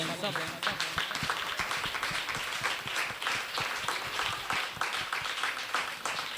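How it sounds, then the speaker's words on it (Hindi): A church congregation claps loudly and steadily in a dense, sustained burst, with voices mixed in throughout. "एक दफ़ा हम खुदा के पाक रूह के लिए जोरदार ताली बजाएंगे सब"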